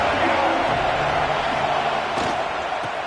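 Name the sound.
stadium crowd cheering at a football game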